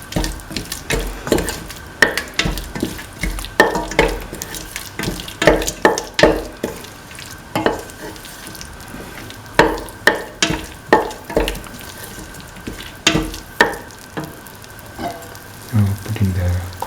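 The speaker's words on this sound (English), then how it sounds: "Thoroughly mix." A spoon stirring and mixing a mixture in a pan for a mint cottage cheese coconut milk rice dish, repeated scraping strokes at an irregular rhythm close up, with a faint steady sizzle underneath.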